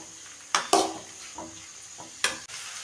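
Onions sautéed to golden for hotel-style kara chutney hiss in a pan under a low steady sizzle, punctuated by a few sharp spatula scrapes and knocks, close and moderately quiet.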